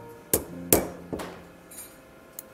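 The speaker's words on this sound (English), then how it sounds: "The hammer is crucial to aligning the blades correctly." A hammer taps steel scissor blades to align them, three sharp metallic strikes spaced about half a second apart with ringing tails, then lighter clinks, close and without talk.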